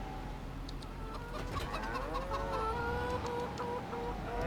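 Chickens clucking in the farming video game Farming Simulator 25, several birds cackling steadily over a constant background hum, no talk.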